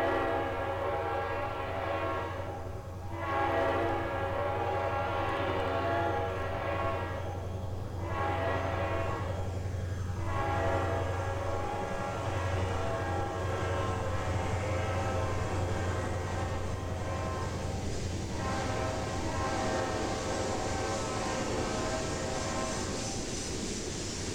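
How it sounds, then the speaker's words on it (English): A train horn in the Trainz railroad simulator game, sounding several long, steady blasts over a continuous rumbling locomotive engine, loud and close, with no voices. "I don't know where that horn came from."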